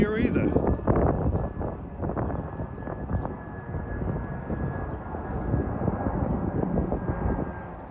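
A plane passes over near the Long Island Rail Road Main Line, a steady, broad roar of engine noise that holds throughout, mixed with some wind buffeting on the microphone.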